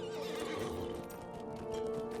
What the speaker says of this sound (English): let me get off my horse here and manually go to the final destination